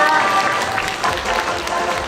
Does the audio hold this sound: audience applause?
yes